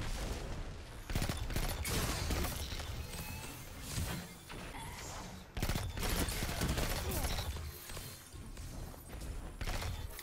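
Rapid bursts of pulse-rifle fire from the Outbreak Perfected exotic weapon in a first-person shooter, loud and sustained with short gaps between volleys and sharp impacts throughout.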